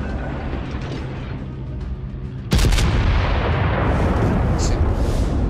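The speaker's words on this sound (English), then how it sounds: "Taking a little bit of fire, long-range fire from some of these guys." Long-range naval gunfire in World of Warships: a steady low rumble of engines and sea, then a sudden loud broadband boom that rolls on as a sustained roar, with no talk over it.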